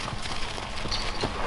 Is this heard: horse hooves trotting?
yes